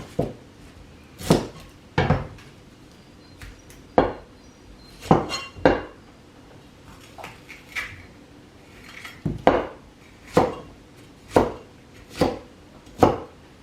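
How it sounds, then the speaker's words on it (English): Knife chopping capsicum, carrot and onion on a board: a dozen or so crisp, separate thunks spaced irregularly about a second apart, close and fairly loud with no voices. "So now we can cut the rest of the veggie. That is capsicum, carrot, onion, okay?"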